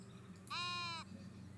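A sheep in a cozy video game lets out one short, bright, electronic-sounding bleat, rising abruptly and then cutting off, moderately loud over a quiet steady background hum.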